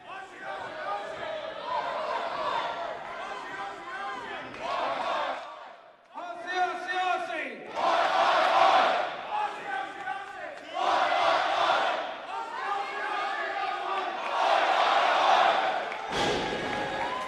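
Wrestling crowd in Grand Rapids chanting "Aussie, Aussie, Aussie" in loud, rhythmic call-and-response bursts that fill the arena, with shouting voices swelling and dipping between each chant.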